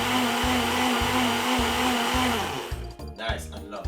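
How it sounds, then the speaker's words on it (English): A countertop smoothie blender whirs loudly, blending pineapple, melon and strawberry with a steady motor drone and pulsing chop; near the end the motor cuts back and the churning becomes uneven and choppy. "we're gonna blend this for roughly 3 to 4 minutes and the smoothie blender"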